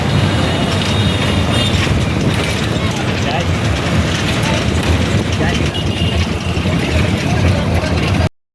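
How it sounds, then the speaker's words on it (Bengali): Howrah railway station with trains: a loud, steady low rumble of engines and rolling stock blends with the station's wash of noise, and voices are heard throughout. "আমরা এবার হাওড়া স্টেশনে এসে পৌঁছে গেলাম"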